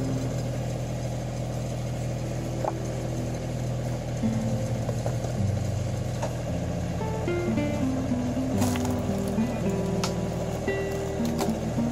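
A log splitter with a double-sided wedge runs off a tractor PTO shaft through an aftermarket pump, a steady low mechanical drone with shifting hydraulic tones and a few clanks, fairly faint and without talk.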